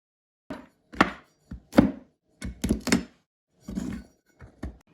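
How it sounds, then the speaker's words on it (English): A knife chops nuts by hand on a cutting board, producing about ten dull, close thunks in irregular clusters with short pauses between them and no voices. "So this is how easy it is to chop nuts by hand."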